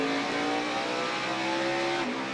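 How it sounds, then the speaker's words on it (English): A NASCAR race car with a tire problem at Martinsville Speedway drones past at a steady loud engine pitch, the sustained roar holding before sagging slightly near the end, with no talk. "That car's all over the track."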